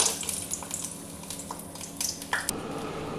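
Bori lentil dumplings frying in hot oil in a kadai give a steady close sizzle with small crackles and a few light clinks of utensils, no talking.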